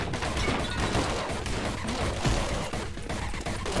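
Rapid gunfire in the video game Anger Foot, a dense continuous spray of shots with game noise throughout, loud and close.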